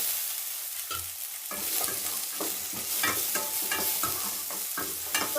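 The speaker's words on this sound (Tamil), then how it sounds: "அந்த தேங்காவையும் சேர்த்து வதக்கிடலாம்." Grated coconut stir-fried in oil in a pan while making varuthu araitha mutton kuzhambu, giving a steady close sizzle with repeated scraping stirs throughout and no talk.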